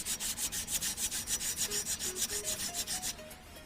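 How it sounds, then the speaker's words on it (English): Rhythmic hand sanding along the edge of a part, steady back-and-forth rasping strokes about six per second, close and clear, with faint tones underneath. "So just maybe sand off the edge here."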